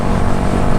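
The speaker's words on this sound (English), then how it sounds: "And on this bike, there's a Black Widow exhaust." A 2017 Yamaha YZF-R125 motorcycle fitted with a Black Widow exhaust with a larger-tipped silencer, its engine droning loudly and steadily up close with a dense low rumble throughout.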